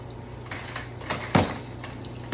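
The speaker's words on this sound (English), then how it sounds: "I gotta pour this water into here anyways" Water pours and splashes into a faulty dishwasher, a short close sloshing with a brief louder gush midway, no talk.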